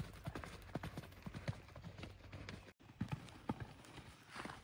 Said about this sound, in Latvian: Taisns zirgs.